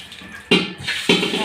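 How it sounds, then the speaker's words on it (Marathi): Tap water runs while a metal water pot (handa) is washed beneath it, a steady splashing broken by two sharp hollow metallic knocks about half a second apart. "हांडा धुती तर कर चालू तुटी"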